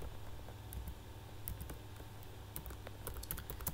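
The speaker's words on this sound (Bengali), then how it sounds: "আপনারা ইনস্টল করতে গেলে আমি কমান্ডটা লিখে দিচ্ছি" Someone types a command on a computer keyboard, a quick patter of soft key clicks over a steady low hum, with no voices.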